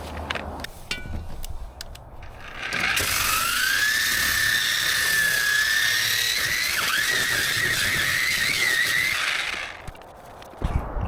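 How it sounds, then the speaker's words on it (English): An angle grinder fitted with a new 36 grit flap disc grinds a boat transom, a loud continuous whine with shifting pitch that runs for several seconds, framed by knocks and handling noise. "we're gonna use the grinder, and we got a brand new 36 grit flap disc that we're gonna use"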